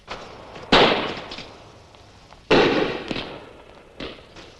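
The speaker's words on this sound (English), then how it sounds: "Fireworks frighten him out of his wits." Fireworks burst on a city street at night, two sharp loud bangs with crackling tails and a softer third pop, spaced a couple of seconds apart with no talk.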